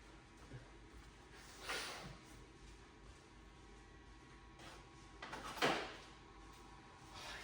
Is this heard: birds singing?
no